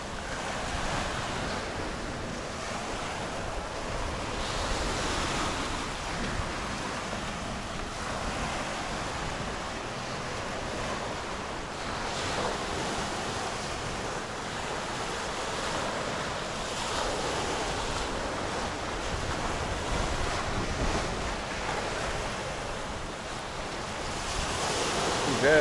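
Ocean waves breaking on a beach on the Penang coast near Teluk Bahang at high tide: a continuous, fairly soft wash of surf with gentle surges, mixed with steady wind noise and no talking.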